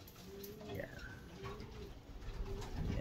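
Soft, low cooing from racing pigeons close by in a loft, repeated in gentle rolling phrases over a quiet background hum.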